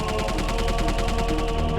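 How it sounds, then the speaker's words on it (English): Sustained rapid gunfire from a line of German soldiers executing assembled American prisoners of war, a loud dense crackle of overlapping rifle shots with no pause across the whole stretch. "a German commandant had just given his men the order to open fire"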